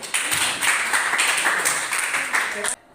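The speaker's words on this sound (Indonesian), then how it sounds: "Berikan tepuk tangan sekali lagi." Applause from students in a classroom, brisk clapping that runs steadily for under three seconds and then cuts off abruptly, with a voice mixed in.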